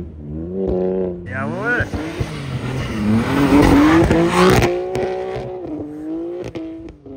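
BMW M3 cars, a 700 hp G80 and a 550 hp F80, climb a snowy hill with loud revving engines that rise and fall in pitch while people shout and cheer nearby.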